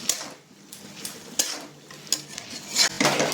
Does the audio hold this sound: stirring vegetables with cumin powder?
yes